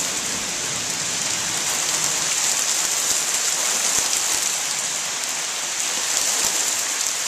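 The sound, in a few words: heavy rain falling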